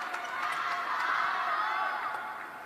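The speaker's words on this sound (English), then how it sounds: "you can hear the crowd really getting behind them as well" A continuous roar of crowd cheering, loud and sustained across the whole stretch, with no single voice standing out.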